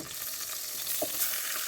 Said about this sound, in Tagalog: unang ginawa ko dito ay i-sear ko muna ang karne